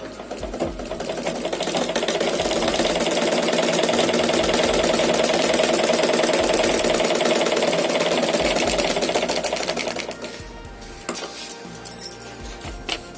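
A sewing machine runs in one continuous stitching burst for about ten seconds, loud and steady with a fast mechanical rattle, then stops into a few light clicks and handling noises.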